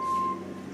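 A vehicle at council roadworks gives a single short reversing beep, a steady electronic tone that cuts off quickly over a low background hum.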